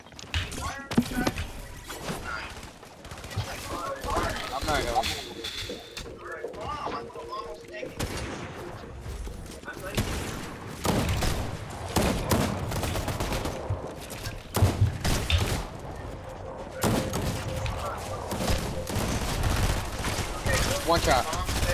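Rapid bursts of gunfire from a ranked online shooter match, crackling repeatedly and at fairly close range throughout, mixed with game noise and players talking over it.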